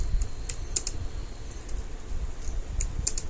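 Rapid typing on a computer keyboard, close and clear, with bursts of key clicks, a few spaced taps and short pauses, no voices.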